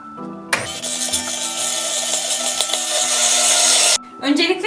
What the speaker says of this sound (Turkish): Şimdi muhallebimizi blenderdan geçireceğiz.